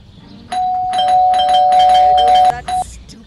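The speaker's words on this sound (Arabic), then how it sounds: "That stupid bell again." A doorbell chimes loudly and close by in a sustained electronic melody of several notes lasting about two seconds, followed by a brief second ring, with no talking over it.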